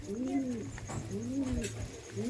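Giribaz pigeons give soft, rhythmic, close cooing in repeated rising-and-falling phrases, roughly three in a row over a low background hum, with no talk.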